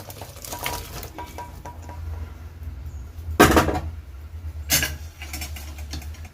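Separately boiled vegetables tipped into a pan for a Pongal seven-vegetable kootu curry, with soft clatter and stirring, two sharp loud clanks of a utensil on the pan partway through, then lighter scraping.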